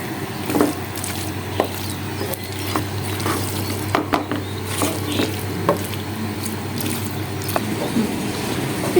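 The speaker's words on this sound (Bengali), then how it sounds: "আমি এটাকে মিক্স করে নামিয়ে নিব, চুলাটা বন্ধ করে দিব।" Spatula scraping and stirring through Chinese-style mixed vegetables with scrambled egg in a pan on the stove, repeated light clacks over a steady low hum, close and alone without talk.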